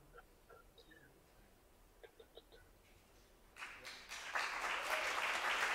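At a photography symposium, a few soft, isolated claps and murmurs give way to a small round of applause from the audience that grows fuller and louder toward the end.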